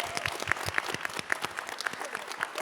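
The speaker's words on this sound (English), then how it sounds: "Let's get a round of applause for that" Applause from an audience at a performing arts creative chat at the Wortham in Houston, steady dense clapping from a full crowd that carries on throughout.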